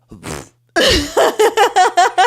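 A woman imitates a fart with her mouth, first a short buzzing blurt, then after a brief gap one long rasp followed by a rapid string of six clipped pulses, loud and close.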